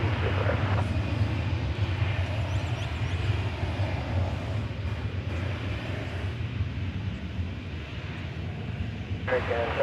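An airliner taxis to Terminal D at DFW Airport, a steady, fairly close jet engine rumble and whine that holds for the whole stretch, with brief bits of talk in the background.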